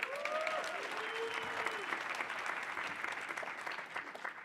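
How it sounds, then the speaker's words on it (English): Audience at a workshop on planning conventions and events giving a round of applause, fairly faint and steady clapping that slowly thins out, with a few brief whoops or tonal sounds near the start. "Let's give her another round of applause."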